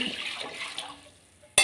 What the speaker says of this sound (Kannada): ಇದೀಗ ಸ್ವಲ್ಪ ನೀರು ಹಾಕ್ಕೊಳ್ಳಿ